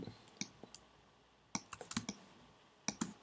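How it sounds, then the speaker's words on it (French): A computer mouse clicks in scattered short bursts, single clicks and quick runs of several, close and crisp against a quiet background. "je clique, je clique, je clique ici, je clique ici,"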